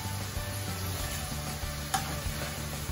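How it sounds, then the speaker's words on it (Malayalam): Chicken pieces frying in hot oil for a homemade burger, giving a steady close sizzle and bubbling throughout, with a brief clink or stir near the end and no voices. "അത് നമ്മളിവിടെ ചിക്കൻ ഫ്രൈ ചെയ്യാം"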